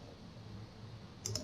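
A pair of light, close mouse clicks in quick succession while working in 3D CAD modeling software, over a steady low room hum.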